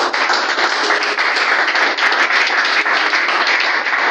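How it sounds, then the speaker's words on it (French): A church congregation applauds to acclaim Jesus, with dense continuous clapping from many hands that stays loud and even throughout. "Est-ce qu'on peut acclamer Jésus là où on est assis ce matin?"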